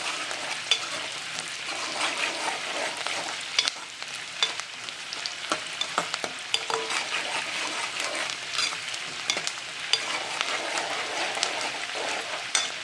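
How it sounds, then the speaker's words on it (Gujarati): Onions frying in a pan until golden brown, for a masala prawn dish, give a steady close sizzle with frequent scrapes and clicks of a spoon stirring, with no talk. "અને પાકવા દેવાની છે ડુંગળી છે, પાકવા દેવાની છે થોડી ગોલ્ડન બ્રાઉન થાય ત્યાં સુધી."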